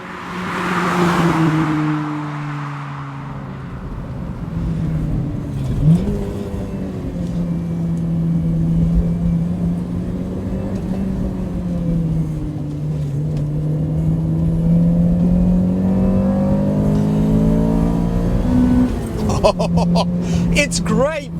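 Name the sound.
Honda CRX 1.6Vi VTEC car driving, engine revving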